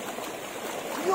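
Flowing river water rushes and splashes steadily while fish are washed in it by hand, close and continuous before cutting off abruptly.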